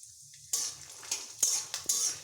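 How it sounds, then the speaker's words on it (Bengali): Peanuts go into white oil in a pan after a quiet start, followed by several bright metallic clinks and scrapes of a spoon stirring amid a light sizzle. "এবার আমি এখানে বাদামগুলো দিয়ে নিচ্ছি। এই বাদামগুলোকে আমি ভেজে নেব।"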